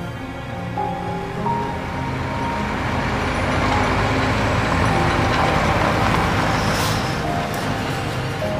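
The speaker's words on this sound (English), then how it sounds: "But then we heard the sound of trucks coming down the road" Trucks come down a road toward a village, a broad, steady rumble of heavy engines that swells gradually and stays loud throughout.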